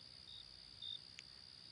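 Steady high-pitched cricket chirping fills a quiet night, a continuous trilling chorus with a few brighter bursts standing out.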